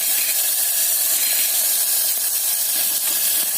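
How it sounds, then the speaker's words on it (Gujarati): Ginger and tomatoes added to garlic in hot oil, producing a steady, bright hiss of sizzling that stays loud and even throughout with no pauses. "લસણ તતડે એટલે આપણે એમાં આદુ ઉમેરી અને સાથે જ ટામેટા પણ ઉમેરી દઈશું"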